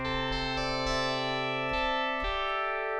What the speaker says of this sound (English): a long kind of sound like this.